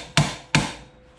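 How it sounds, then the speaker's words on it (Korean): Two sharp knocks from a rubber mallet tap a part of a reinforcement kit into place, each thud ringing briefly before fading, close up with no talk. "고무망치나 이런 걸로"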